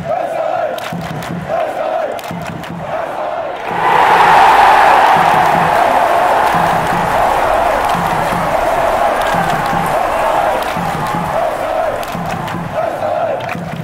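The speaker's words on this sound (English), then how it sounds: "I've never seen a crowd go so wild" Large football stadium crowd erupting after a goal, a loud sustained roar of cheering and shouting that swells suddenly and holds, over an earlier chant-like crowd murmur.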